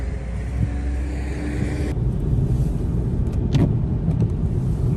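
A loaded vehicle hauling a sprayer pulls away on the road toward Kryvyi Rih, a steady low engine rumble with road noise filling the whole stretch, a brief clunk partway through, no voices.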